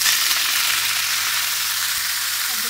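Red amaranth greens (lal shak) frying in a pan give a loud, steady, dense sizzle that holds unbroken throughout.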